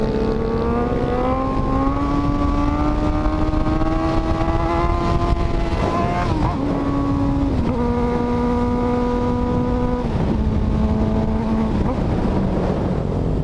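Honda Hornet motorcycle ridden on a viaduct, its engine note rising through the gears with clear upshifts and dips, loud and close over wind rush.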